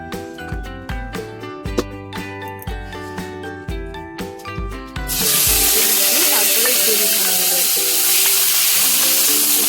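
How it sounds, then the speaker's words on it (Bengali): Spice paste of tomato, ginger, garlic, cumin and chili hits hot oil and bursts into a loud, steady sizzle and hiss that continues to the end, following several seconds of rhythmic plucked-string music. "তেলে মশলাটা দিয়ে বেশ ভালোভাবে কষানো হবে"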